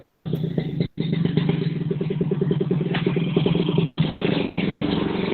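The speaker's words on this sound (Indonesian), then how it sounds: "Ini ada suara motor ini." A motorcycle engine runs close by during a school orientation opening session, a loud steady throbbing drone that cuts out abruptly several times, with brief choppy gaps near the end as if transmitted over an open microphone.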